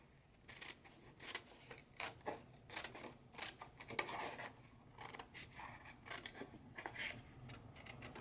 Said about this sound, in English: And you're going to cut on the other side.